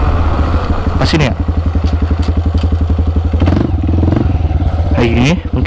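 A Honda CRF 150L motorcycle engine thumps in a steady, rapid pulse close to the mic, with clattery mechanical noise and a voice talking over it on a hillside route.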